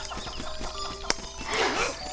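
A chicken clucking in the video game Link's Awakening, a few short rhythmic clucks over game music, with a sharp squawk in the middle and a burst of noisy flapping toward the end.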